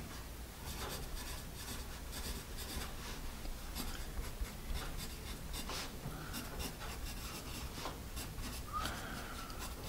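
A freshly sharpened Mitsubishi 9800EW graphite pencil scratches steadily across paper, a close, continuous dry rasp with small stroke-by-stroke bursts over about ten seconds, with no voices.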